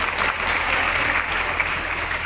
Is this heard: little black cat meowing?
no